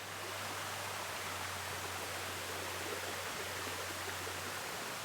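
A waterfall on Siquijor in the Philippines pours in a steady, dense roar that stays even and continuous throughout, with a low hum running beneath it and no voices.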